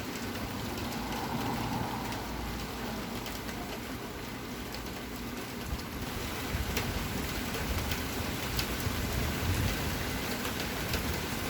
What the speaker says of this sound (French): Donc, il fait juste pleuvoir. Et il tonne, tout simplement.